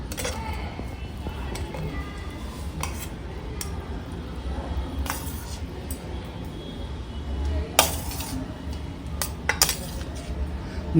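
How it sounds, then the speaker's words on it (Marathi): A spoon mixes broccoli, three colours of capsicum, sweet corn and paneer in a metal bowl, giving soft scraping with scattered clinks against the bowl, growing sharper toward the end, while someone talks. "आपण ना ह्या भांड्यात घेऊयात सगळं एकत्र करायला"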